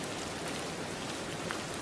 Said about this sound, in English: Outside, the rain drifts through the darkness, tapping, whispering, settling the world to sleep.